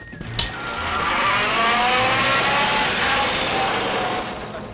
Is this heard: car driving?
yes